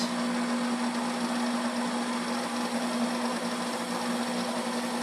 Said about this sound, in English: we're going to mix this with the paddle attachment on low for 1 minute